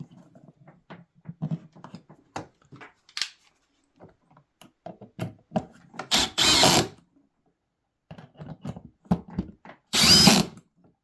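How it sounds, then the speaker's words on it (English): A power drill drives the included screws to fix mounting brackets onto a Ridgid ProGear 2.0 toolbox, with short scattered clicks and handling noises building to two loud, sustained whirring bursts of screw driving, the second near the end. "go ahead and use the included screws to securely mount them onto the box."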